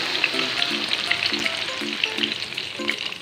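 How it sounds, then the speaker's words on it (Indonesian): Ground spice paste sizzles in hot oil for a rendang of chicken liver, gizzard and potato, a steady bright frying hiss with a few soft low knocks as it is stirred, close and alone. "Kemudian kita tumis bumbunya."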